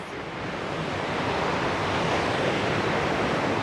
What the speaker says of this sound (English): Enjoy the sounds of the ocean today.